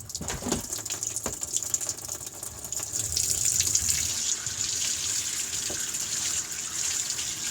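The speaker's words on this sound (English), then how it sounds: "Let's rinse off this stuff." Tap water runs steadily into a sink while a resin or metal model horse is rinsed under it, the flow splashing and gushing close by with small drips, no talking.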